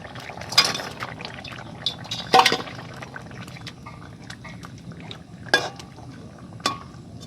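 Water poured into a pan of fish curry, giving a soft, liquid splashing and gurgling with a few brief louder bursts of pouring, fairly close and with no talking.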